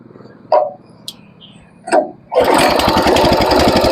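A couple of short knocks and pulls, then the small engine of a G-500 power tiller sputters to life and runs loudly and steadily, close by.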